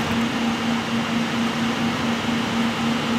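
Steady, loud whooshing fan noise with a constant low hum underneath, unchanging throughout, from the fans of a Vetroo U6 Pro dual-tower CPU cooler spinning at 100% speed.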